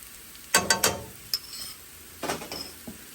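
Bacon goes back into a skillet with frying onions, making a quick run of scraping clatters and sizzling bursts, then a lighter scrape or two after a short pause, close and moderately loud.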